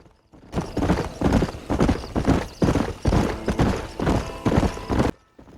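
A horse gallops in the open-world video game Red Dead Redemption, with loud, close, rhythmic hoofbeats pounding in steady repeated bursts for about five seconds before stopping abruptly.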